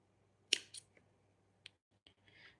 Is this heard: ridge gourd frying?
no